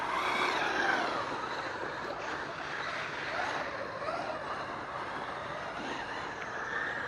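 A Traxxas Maxx 3S RC car on Pro-Line Hyrax tires slides around at a distance, its motor whine and tire scrub a faint, steady wash without pauses.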